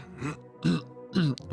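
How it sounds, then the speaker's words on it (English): A person burps while laughing, giving three loud, voiced croaking bursts spaced about half a second apart, each with a rough, gurgly throat quality. "I like laughed and burped at the same time"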